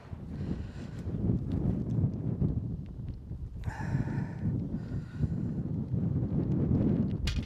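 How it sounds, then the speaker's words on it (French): Strong wind gusting across a golf course, a steady loud roar of wind buffeting the microphone throughout, with faint rustling and brief clatters in the background. "Il y a un vent de dingue."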